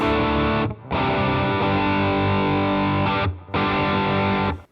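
A sustained, gritty overdriven electric guitar rings out loud and alone, with two brief gaps where the chords are re-struck.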